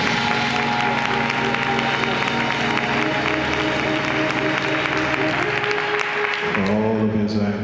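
Church congregation at a spring revival service giving a sustained hand clap of praise, dense continuous applause from many people filling a large room, with voices mixed in before the clapping thins out near the end.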